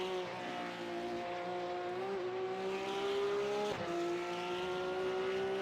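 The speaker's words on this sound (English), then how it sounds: "You just hear how patient these guys have to be on the throttle of these Cup cars." Cup race cars lap Hockenheim in the iRacing sim, their engines a loud, continuous harmonic whine that climbs steadily, with two brief dips where the pitch resets before rising again.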